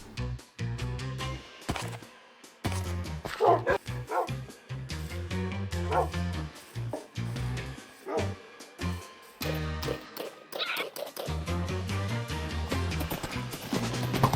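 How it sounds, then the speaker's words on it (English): Dogs in a modded Minecraft world bark and yip in quick repeated bursts, with a few whimpers. The barking is loud and close and runs continuously over a busy game-audio background. "and I tamed myself some dogs"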